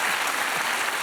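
Studio audience applause on a French television comedy show, a short burst of dense, even clapping from a crowd.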